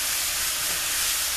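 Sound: cabbage frying in a pan

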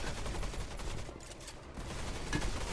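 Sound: gunfire from the VR game Gun Raiders

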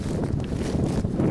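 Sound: wind blowing into the microphone

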